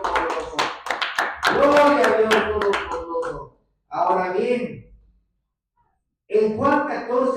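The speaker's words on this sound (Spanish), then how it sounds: "Aplausos al Señor Dios Todopoderoso." A church congregation claps with a scattered patter of hands, mixed with a voice that keeps speaking through and after the applause.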